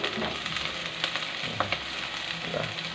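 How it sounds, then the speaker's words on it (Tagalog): Pakbet Ilocano vegetables with onion and garlic sizzle steadily in a pan as they are stirred, with occasional soft utensil scrapes and clinks over a continuous frying hiss. "Mix lang natin yan."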